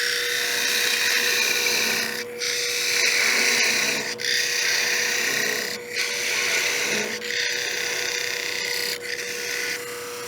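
A wood lathe turns a wooden box while a parting tool cuts into it: a steady, loud, whining drone with a constant tone, briefly dipping every second or two as the tool eases off and bites again.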